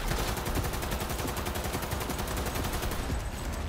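Sustained rapid gunfire from a shooter game set in Cyberpunk 2077's futuristic city, with dense overlapping automatic bursts that stay loud and continuous before easing slightly at the end.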